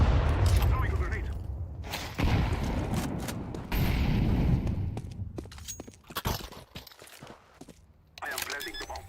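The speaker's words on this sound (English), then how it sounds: "Throwing a grenade." Grenade thrown and detonating in a Counter-Strike match, heard as loud low booms and bursts of gunfire amid game footsteps, with dense layered game sound throughout.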